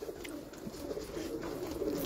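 A favourite female pigeon on a rooftop loft gives soft, low, continuous cooing, fairly faint and steady throughout with no talking.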